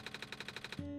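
A rapid, rhythmic stuttering crackle of digital noise from the game OneShot that abruptly cuts into a steady synthetic buzzing tone, faint and brief.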